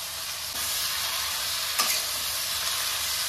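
Green chillies drop into hot oil with five-spice panch phoron, a loud continuous sizzle starting abruptly and frying steadily, with a brief stirring clink partway through.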